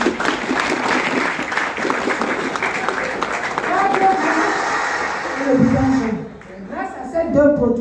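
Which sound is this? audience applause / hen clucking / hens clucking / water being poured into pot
audience applause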